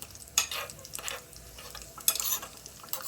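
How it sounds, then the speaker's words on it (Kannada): Dry fruits roast in ghee in a pan, a soft sizzle broken by a few sharp scrapes and clinks of a spoon stirring against the metal. "ಡ್ರೈ ಫ್ರೂಟ್ಸು ರೋಸ್ಟ್ ಮಾಡ್ಕೊತಾ ಇದ್ದೀನಿ."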